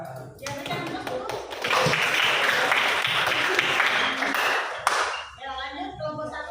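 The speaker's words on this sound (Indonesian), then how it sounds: "Ya, berikan aplaus dulu." Audience applause in an Indonesian classroom following a group presentation, a dense burst of clapping that swells and holds for several seconds before tapering off, with voices murmuring underneath near the end.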